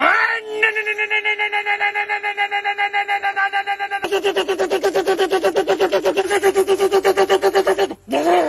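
A Ford Focus engine revs hard with a screaming, rapidly pulsing buzz. The pitch climbs, holds, then shifts to a rougher stuttering rev. The sound is loud and close, with no talk, and ends in a brief dip.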